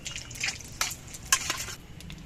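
Fish heads being stirred into mung dal in a pot, giving a few soft scrapes and light clinks from the spoon against the vessel, spaced irregularly over a low background.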